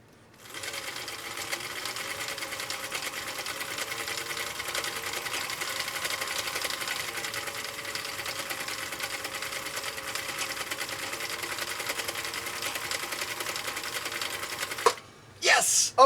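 A restored Husqvarna Viking CI 21A sewing machine runs steadily through stitch number 3, a close, continuous mechanical whir with rapid needle clatter lasting about fourteen seconds before it stops, then a couple of brief clunks.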